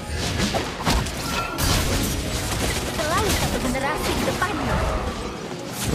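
Beatrix firing her grenade launcher in the Mobile Legends mobile game, a busy run of thumping blasts and crashes under chaotic battle effects, with faint whooshes mixed in.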